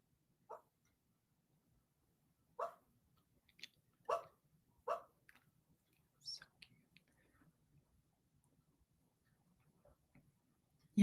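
A sleeping dog makes soft, sporadic noises while dreaming: brief muffled yips and whimpers spaced out over a quiet background, close and faint, with no talking.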